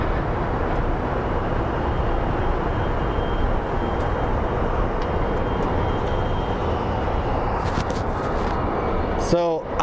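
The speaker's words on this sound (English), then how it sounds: "up next is going to be a 737 on way to Denver" A Southwest Airlines Boeing 737 heads out toward Denver at Phoenix Sky Harbor airport, a loud, steady broadband jet roar that fills the whole stretch with little change, and a brief sharp clatter right at the end.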